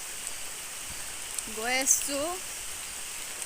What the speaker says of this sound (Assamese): আকৌ বৰষুণ আহিছে